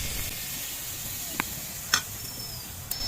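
Batter for a Bengali pitha hits a hot oiled pan and sizzles, a quiet, even hiss that runs throughout with a few faint clicks on top.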